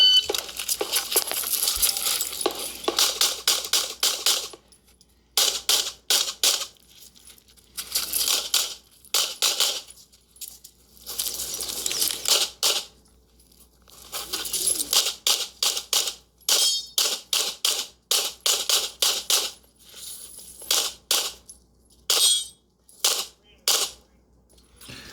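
Rapid strings of pistol shots ring out while a shooter works through a Carry Optics stage at a national championship match, sharp cracks in fast bursts broken by short pauses for movement and reloads, close and loud throughout.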